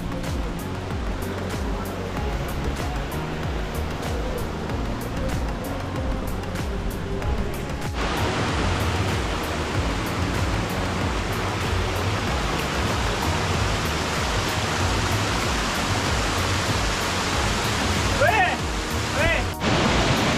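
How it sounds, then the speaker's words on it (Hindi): Waterfall near Panchkula on the road toward Dalhousie, a steady broadband rush of falling water filling the whole stretch, growing fuller and louder partway through, with faint traffic-like noise mixed in. "तो गाइस ये जो पीछे वाटरफॉल आप देख रहे हैं ये पंचकूला में पड़ता है"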